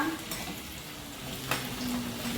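Chopped onions fry and sizzle in a pan with spices for a home-cooked chicken dish, a steady close hiss broken by a spoon stirring and scraping against the metal.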